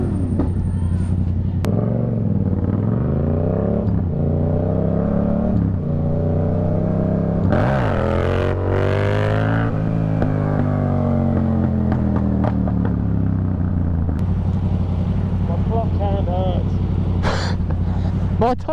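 Rush-hour traffic in central Cambridge heard from a motorcycle, with engines revving and rising and falling in pitch, passing vehicles and a loud, continuous road roar throughout.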